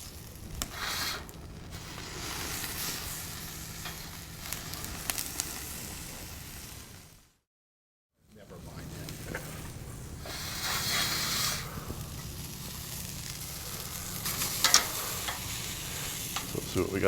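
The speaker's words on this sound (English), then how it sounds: "Trying to get that one side a little bit seared better" Whole picanha searing on an SNS Travel Kettle grill, a steady broad sizzle and hiss that holds for several seconds, drops out briefly, then returns with occasional crackles, close and moderately loud.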